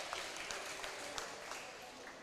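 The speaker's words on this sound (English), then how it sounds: "The crowd goes wild." Crowd applauding at a youth and junior lead climbing championship final, a steady wash of clapping held at the same level throughout, heard from a distance with a faint commentator's voice in the background.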